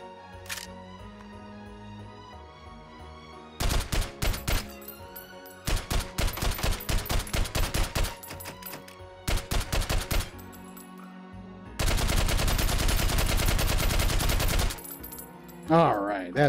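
Gunfire from a G3 rifle in the VR shooter Hot Dogs, Horseshoes & Hand Grenades, loud bursts of rapid automatic shots separated by pauses, one long sustained burst near the end, with mechanical clicks between.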